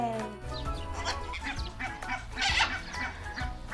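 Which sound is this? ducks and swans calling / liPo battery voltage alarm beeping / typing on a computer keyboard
ducks and swans calling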